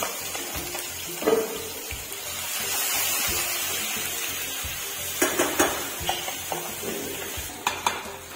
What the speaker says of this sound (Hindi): प्याज लहसुन और हरी मिर्च अदरक हम तड़को लगा दें तड़को आ गयो है